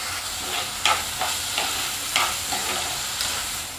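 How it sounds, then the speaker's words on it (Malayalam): Chopped onion and tomato sizzle in hot oil in a pan, a steady close hiss broken by regular stirring scrapes roughly every half second. "ചട്ടി ചൂടായി 1 ടേബിൾ സ്പൂൺ എണ്ണ ഒഴിച്ചു. അരിഞ്ഞു വെച്ച ഈ കൂട്ടി ചേർക്കാം. ഒരു തക്കാളി അരിഞ്ഞത് ചേർക്കാം."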